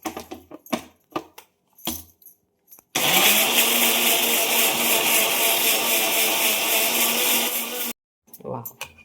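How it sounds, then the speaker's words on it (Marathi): A mixer grinder runs dry on red chillies for a tomato chutney, a steady loud whirring grind lasting about five seconds, with brief clatters and voices before and after. "आता आपण हे पण बारीक दळून घेऊ."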